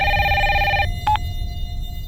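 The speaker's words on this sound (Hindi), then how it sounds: "कौन बार बार फोन क्यों नहीं पिक कर रहे हो?" A telephone rings with a steady electronic trill for almost a second, then gives one short chirp after a pause, all over a constant low background hum in an indoor setting.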